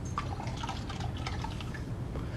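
Yeast culture being poured into a beer fermenter, a soft liquid trickle with scattered drips and splashes, close by and fairly quiet, with a low background hum underneath.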